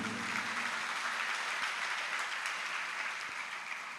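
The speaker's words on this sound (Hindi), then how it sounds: "उनका स्मरण करते ही तालियां बजती हैं" An audience at a religious scripture study session claps together, a soft, distant, steady patter of many hands sustained without a break and no speech over it.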